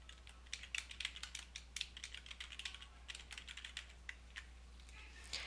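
Faint, quick tapping on a computer keyboard, irregular bursts of keystrokes close by in a quiet room over a low steady hum, with no talking.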